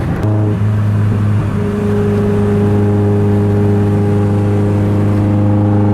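A car engine pulling in to park on a windy day, a loud, close, steady humming drone that holds an even pitch throughout, with no voices.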